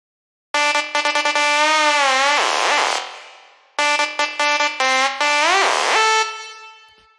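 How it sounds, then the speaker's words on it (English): A bright, buzzy SynthMaster One synth lead preset, Firesaw One, from a hybrid trap track plays two loud phrases of quick staccato notes. Each phrase ends in sustained notes that bend and wobble in pitch before fading, with no voices. "So this is lead Firesaw One"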